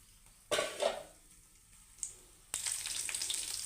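Curry leaves and onion frying in hot oil as a tempering for coconut-milk rasam: a soft sizzle breaks out in two bursts, quiets, then a louder, steady crackling hiss takes over near the pan.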